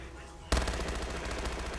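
Video game gunfire bursts in abruptly after a quiet moment, a rapid automatic rattle of shots that stays loud and dense to the end.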